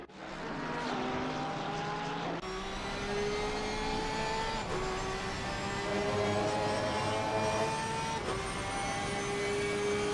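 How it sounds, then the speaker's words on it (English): A Porsche GT3 Cup car engine in a racing video game at the Catalan circuit drones steadily, its revs rising and shifting across several gear changes, loud and continuous with no talk over it. "Listen to that Porsche."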